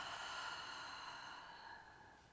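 A single long exhale during a hypopressive breathing exercise comes through as a soft, airy breath close to the mic, fading gradually toward the end.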